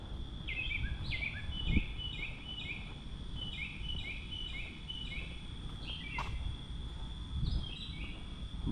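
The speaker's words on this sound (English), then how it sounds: "Wow, what kind of bird is that?" A bird sings repeated short, high chirping phrases at a moderate distance in Dallas over a constant low air-conditioning hum, with occasional faint knocks in the background.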